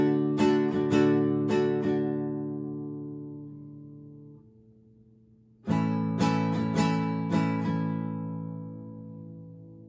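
An acoustic guitar strums a run of chords, rings out and stops, then strums again with a short gap in between, so the changes come out uneven. The strums are close and clear with no voices.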